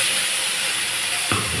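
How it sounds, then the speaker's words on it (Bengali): Leaf paste poured into a hot oiled pan gives a loud, close, hissing sizzle that is broad and steady, with a sudden lower burst near the end. "এবার আমি এই পেস্টটা এর মধ্যে ঢেলে দেবো।"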